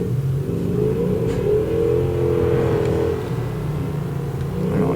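An all-wheel-drive car drifts with the rear stepping out, its engine droning and revving in a steady, loud rumble with a rising and falling pitch that runs the whole time.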